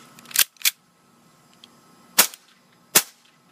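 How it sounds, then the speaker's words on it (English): A 1911 Scorpion toy blowback pistol fires four sharp, snappy shots close by: two quick cracks, a pause, then two more spaced cracks, with near silence between. "Pistol, mag, 2 bullets left, and then you keep shooting."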